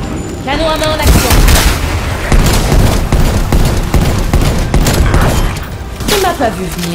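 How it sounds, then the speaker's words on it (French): Dense, loud bursts of hand cannon gunfire in Call of Duty: Cold War Zombies crackle almost continuously, with heavy booming shots and brief voice-like tones over the barrage. "Canon à main en action."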